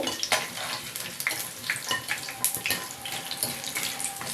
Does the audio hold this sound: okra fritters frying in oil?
yes